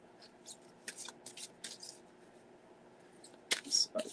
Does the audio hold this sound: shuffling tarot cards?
yes